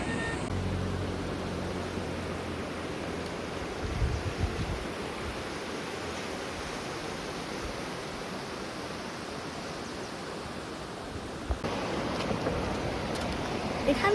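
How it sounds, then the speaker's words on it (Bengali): A mountain stream in the hills near Dudhia village, North Bengal, rushes steadily as a broad, constant wash of flowing water, close and loud throughout, with wind buffeting the microphone. "পাহাড়ি ঝর্ণা তার আপন খেয়ালে বয়ে যাচ্ছে"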